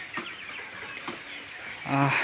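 Sylhet Fayoumi chickens cluck in short, scattered calls, with a louder burst near the end, as they are fed freshly cut grass on a small poultry farm.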